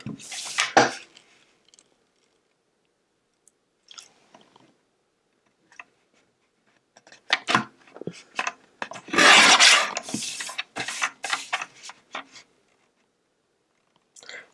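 Edges of a handmade paper card being trimmed by hand, with a few scattered scrapes and cutting strokes early on, then a denser run of close rustling and snipping near the end, no talk.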